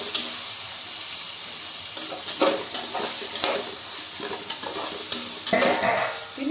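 Tomato fries in a pan for coconut rice, giving a steady, loud sizzle with scraping stirs and clinks of a spoon against the pan throughout.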